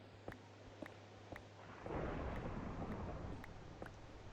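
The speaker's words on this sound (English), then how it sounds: "Oh, I forgot what the old thunder sound sounded like." Old-style thunder in Minecraft: a low, rolling rumble swells in partway through and lingers quietly, with faint regular ticking clicks throughout and no voices.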